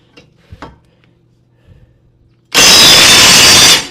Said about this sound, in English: When you use a impact, you don't need a piece of wood when you're loosening it.